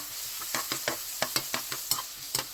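Garlic sizzles in a pan while being stirred during a salmon and ginger stir-fry, with a steady frying hiss broken by a dozen sharp spatula scrapes at an irregular rhythm, close and alone.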